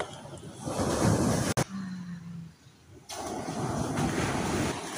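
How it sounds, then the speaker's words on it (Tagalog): Ocean surf rushes and crashes on a beach with a strong current, a broad roaring wash broken by a short lull and heavy wind buffeting on the microphone. "malakas yung current at hampas ng alon."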